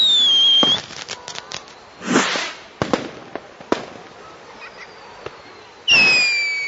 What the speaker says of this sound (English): It's a firework display with bright colours and shapes dancing in every direction.